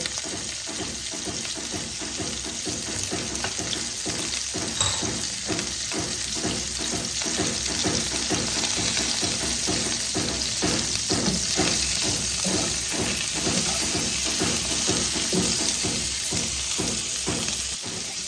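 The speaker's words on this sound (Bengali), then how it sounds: "দেখো ফুলকপি ভাজাগুলো আমার হয়ে গেছে প্রায়" Cauliflower florets frying in oil with turmeric and salt for a Bengali rohu fish curry, a dense, continuous, close sizzle with crackling spatters that stays steady throughout.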